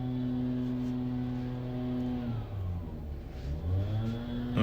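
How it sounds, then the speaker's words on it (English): Someone runs a leaf blower outdoors nearby. It gives a steady, droning engine whine that shifts pitch partway through and carries on without a break, with no talking. "Sorry for that noise. Dude got this blower."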